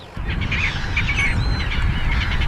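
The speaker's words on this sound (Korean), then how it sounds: "갑자기 수백 마리의 붉은 부리 갈매기들이 몰려들었습니다." Hundreds of black-headed gulls gathered over flooded rice paddies in Ogata call in a dense, overlapping chorus of harsh cries over a low background rumble.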